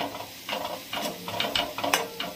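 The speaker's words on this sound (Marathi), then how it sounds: "तो मसाला मी इथं टाकून घेते आणि हे आपण असं हलवून घेऊयात अर्धा मिनिटभर" Black masala scrapes and sizzles in a pan over a low flame, a spoon stirring in repeated bursts over a steady frying hiss, close and fairly clear.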